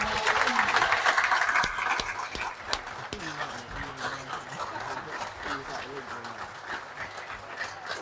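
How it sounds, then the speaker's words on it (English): Applause for the players at a Cornwall versus England masters and professional event, a dense burst of clapping that thins after a couple of seconds into scattered claps and crowd murmur with voices talking over it. "So a big round of applause again, please, for Eoin Yow"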